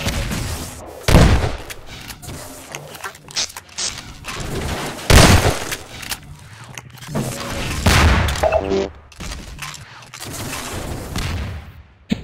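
Rapid bursts of RPG rockets and gunfire in a Half-Life 2 Deathmatch match, a loud, dense run of booms and shots with occasional sharp blasts and little pause between them.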